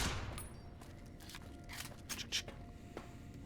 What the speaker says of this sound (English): God, I love this pistol.